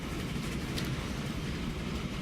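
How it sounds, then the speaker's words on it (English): Trains roll along rails in Transport Fever, a dense continuous rumble with rhythmic clatter, loud and close with no talking. "There is a drag race of trains going down"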